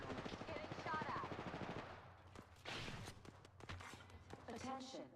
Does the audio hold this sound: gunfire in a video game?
yes